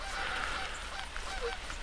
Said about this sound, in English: We've got some geese flying over right now